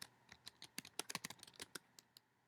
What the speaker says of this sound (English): I'm typing 2 sentences.